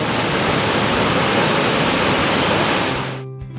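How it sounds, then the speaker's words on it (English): The largest waterfall in this part of Krka National Park, Croatia, roars as a loud, dense, continuous rush of falling water close by, then drops away abruptly near the end. "you'll come face to face with the largest waterfall in this area of the park"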